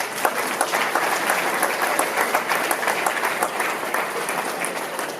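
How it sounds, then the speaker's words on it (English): Crowd at a city inauguration ceremony in Compton gives a guest a round of applause, sustained loud clapping with a few sharp claps standing out, no talking. "Give him a round of applause."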